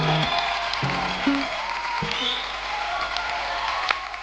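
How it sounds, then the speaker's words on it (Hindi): A studio audience on a comedy talk show applauds and cheers as a guest is welcomed onto the stage, a broad continuous wash of clapping with scattered whoops and brief voices over it. "आप सबकी जोरदार तालियों के बीच"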